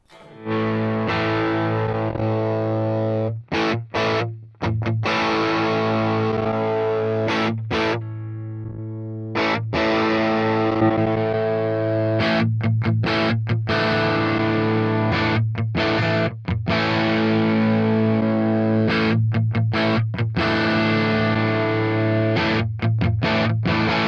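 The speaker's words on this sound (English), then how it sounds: "show you a couple of examples of what this overdriven amp sounds like using a few different cabinets" Heavily distorted electric guitar chords from an overdriven amp, run through several different speaker cabinet impulse responses, ring out loud and sustained, with brief pauses between passages as the tone shifts slightly; no talking.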